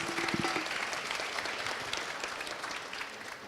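An audience at a Brazilian games-for-impact conference, Abragames' Big Impact, claps steadily after a talk, a dense even wash of applause that slowly tapers.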